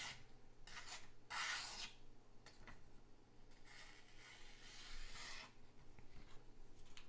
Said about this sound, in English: just really slice through that paper